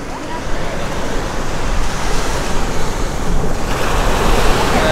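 Sea waves wash steadily onto a small black-sand beach at Neendakara fishing harbour in Kerala, a loud continuous surf roar mixed with wind buffeting.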